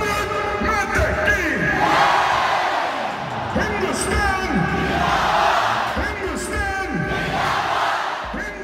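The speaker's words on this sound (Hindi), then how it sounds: "वो और हम एक दूसरे से ऊंची आवाज़ करने की कोशिश कर रहे हैं" A large crowd at the Wagah border ceremony shouting, chanting and cheering in waves, with rising whoops and yells layered over a constant roar, loud and close throughout.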